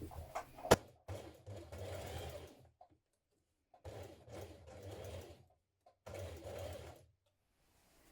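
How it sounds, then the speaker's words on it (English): A sewing machine stitches down the waistband of elasticated-waist trousers in three separate close, clear bursts of rapid stitching, with a sharp click at the start and silent pauses between runs. "Now stitch down your waistband, catching in the seam on the other side."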